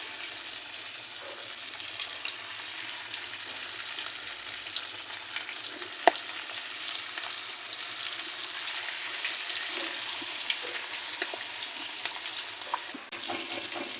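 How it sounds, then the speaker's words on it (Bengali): Marinated chicken pieces deep-frying in hot oil for chicken Manchurian give a steady, close sizzle and bubbling with a few sharper pops, and no voices. "এই চিকেনটাকে এবার আমরা একটু একটু করে তেলে ছাড়তে থাকবো"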